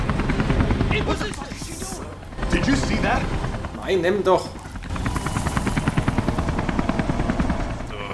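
Helicopter rotor chopping steadily through gameplay of the video game Beyond: Two Souls, loud and continuous beneath someone talking in German and bursts of other game sounds.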